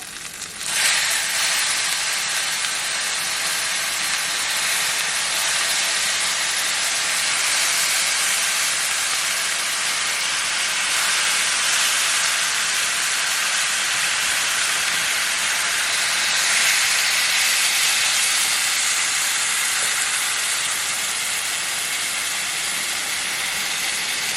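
Sauce poured slowly into a hot pan of rice for arroz con pollo sets off a loud, continuous steamy hiss that holds steady for the whole stretch, with no voices.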